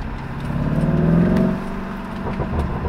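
A car's exhaust pops and crackles as the engine revs, a loud, close, sustained rev that swells and falls back, with no talk over it.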